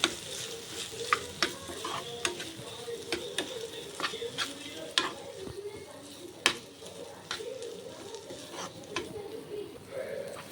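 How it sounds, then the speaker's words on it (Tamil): Chopped egg for an Aurangabad-style egg fry is mixed in a hot pan, with a fairly quiet sizzle under a steady run of spatula clicks and scrapes against the pan. "இதை நல்லா மிக்ஸ் பண்ணிக்கலாம்"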